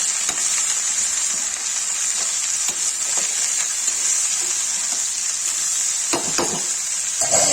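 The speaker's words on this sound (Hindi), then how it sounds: "इसे नमक डालिए, इसे चला देते हैं।" Sliced okra fries and sizzles in a pan with salt as it is stirred, giving a steady hiss with a few scraping stir strokes toward the end.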